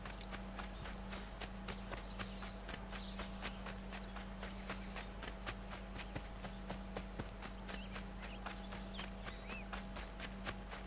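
Horse hooves clip-clop in a steady, even rhythm in the video game Assassin's Creed 3, quiet and continuous over a faint bed of chirping insects.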